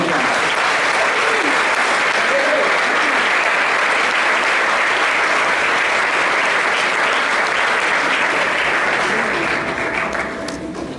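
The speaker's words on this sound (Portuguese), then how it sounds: "dá uma salva de palmas para Jesus" A church congregation breaks into loud, sustained applause filling the hall, a dense wall of many hands clapping that fades slightly at the end.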